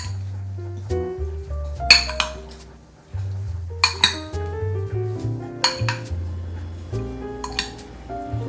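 Shrimp tossed with olive oil in a bowl, bright clinks and clatters of a utensil against the bowl in irregular bursts with wet squishing between, close up and without voices.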